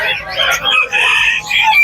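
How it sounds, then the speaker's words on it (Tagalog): Loud bird calls close by at a pet market, several overlapping squawks and crowing-like cries in quick succession, with no talking. "Mga ibon."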